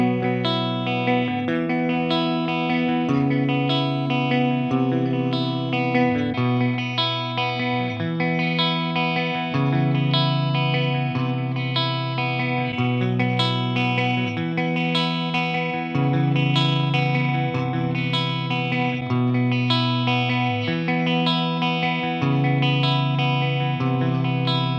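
Distorted electric guitar played through a Laney Ironheart 60 amplifier into Celestion Vintage 30 and G12T-75 speakers, with a light reverb tail; steady, loud chugging riffs and sustained chords run continuously without any talking.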